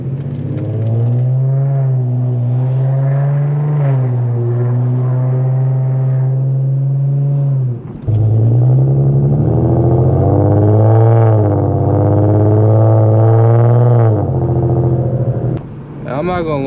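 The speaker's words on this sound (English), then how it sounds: "if you guys are interested in getting a vibrant resonator muffler delete, it is pretty loud" An Infiniti G37X with a Vibrant resonator and muffler delete exhaust drives along with a loud, droning engine note that swells and settles through gear changes, with a brief dip as it shifts mid-run.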